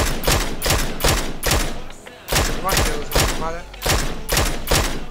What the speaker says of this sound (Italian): Mi hanno sparato alle spalle